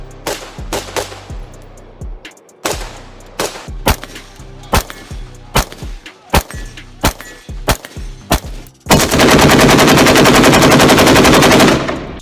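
Colt M4 style rifle fire, loud and close: a string of separate single shots at uneven intervals, then a sustained rapid burst of several seconds.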